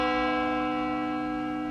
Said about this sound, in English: That's two notes of the bell.